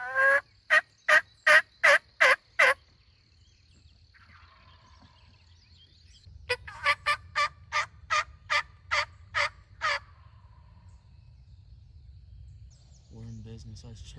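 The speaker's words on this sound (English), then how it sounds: "I just heard him gobble back." Wild turkey tom gobbling in a Tennessee spring hunting setting, two loud rapid bursts of rattling gobbles, the first near and sharp, the second after a pause and slightly softer, with faint low rumble and rustling between.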